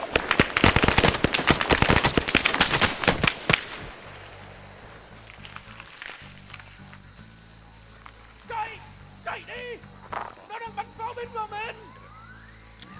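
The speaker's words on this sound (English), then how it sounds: "I'm gonna hone in on those gunshots" Gunfire in a Vietnam War video game: a rapid burst of loud, sharp cracking shots in the opening seconds, then quieter scattered pops and clicks with game sounds and brief chirping tones behind.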